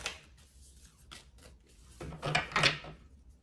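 Oracle cards are shuffled in sporadic soft riffles and slides, quiet at first and then building to a brisker, louder burst near the end, with no one speaking.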